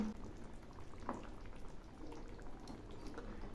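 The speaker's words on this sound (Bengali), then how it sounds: "ঝোল একটু একটু ফুটছে" Quiet, steady bubbling of boal fish curry gravy simmering, soft and continuous with faint pops, nothing else around it.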